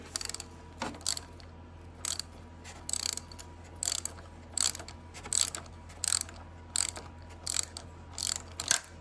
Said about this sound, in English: Okay, so we're gonna need a ratchet for this.